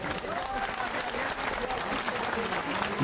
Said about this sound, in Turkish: O zaman üç tane sporcuyu bir alkışlayabilir miyiz?